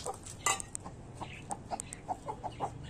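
Broody hens cluck faintly in short scattered notes through a quiet backyard coop, with a brief rustle or clatter near the start and no voices.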